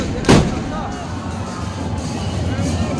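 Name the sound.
guns fired during Seto Machindranath Jatra festival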